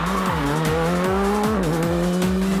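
Tires of a Lada Granta race car squeal loudly and continuously, with shifting pitched whines layered over a repeating rhythmic engine pulse, close and alone.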